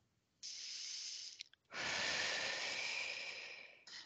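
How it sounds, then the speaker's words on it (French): Slow deep breaths taken during a hypnosis session, two long airy close inhales or exhales separated by a brief pause, with another breath starting at the end, no talking. "Prenez 3 grandes respirations, mesdames"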